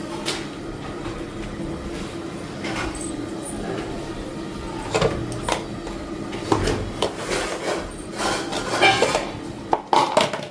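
Pots, pans and utensils knock and clatter in a home kitchen, with a steady background hum and scattered metallic clinks that grow busier toward the end.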